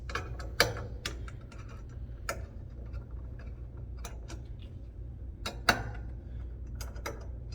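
Screws being unscrewed from a MISHA base, heard as scattered sharp clicks and ticks at irregular intervals, a few louder snaps standing out, over a steady low hum with no talking.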